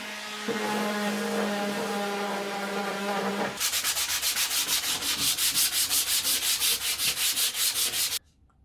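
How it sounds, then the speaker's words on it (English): An orbital sander buzzes steadily against wood for a picture frame, then shifts to a rapid, rhythmic scraping pulse before cutting off abruptly. "We'll start with the rough sanding on the orbital sander there"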